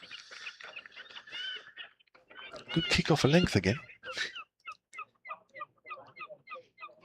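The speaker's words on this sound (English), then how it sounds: "I was watching the Gulls having a punch up here down to the right" Gulls squabble and fight at a county cricket ground, giving shrill, squealing calls and short yelps. Commentators speak over the harsh calls, which later break into short repeated cries.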